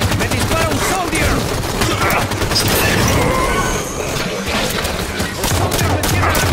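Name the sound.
enemy soldier shooting in the video game Halo 5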